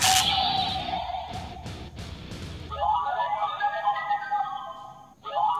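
A Ultraman Geed DX GeedRiser toy gives electronic sound effects: a series of synthetic tones and chimes in short bursts, then a longer warbling passage, fairly quiet and heard alone.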